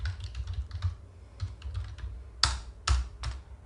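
Close, quiet typing on a computer keyboard in an office, with irregular quick key taps and a few louder, sharper strokes near the end, and no voices.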